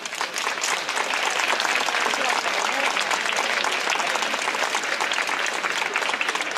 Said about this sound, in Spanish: quiero pedir un aplauso muy fuerte para la Hermandad de Santo Domingo y para nuestra pregonera